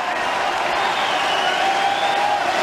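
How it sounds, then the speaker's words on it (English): Spectators at the 2023 Australian Open tennis match applaud and cheer in a dense, sustained roar that fills the stadium without letting up. "The crowd, the supporters behind Djokovic."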